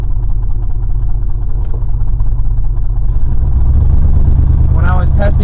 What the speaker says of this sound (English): It kind of sounds like it's a beat up truck, which it is